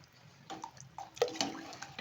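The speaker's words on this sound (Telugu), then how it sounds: "ఇప్పుడైతే ఇంకా మనం వాటర్ యాడ్ చేసుకుందాం" Water poured into a pressure cooker pot of chicken haleem comes in a few short, faint splashing gushes close by, with quiet gaps between them and no talking.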